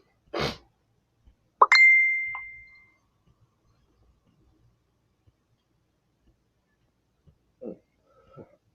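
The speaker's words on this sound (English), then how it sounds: "I had a message came in" A single bright incoming-message notification ding rings clearly and then fades over about a second, set between a soft thump before it and a couple of faint, brief sounds afterward in a quiet room.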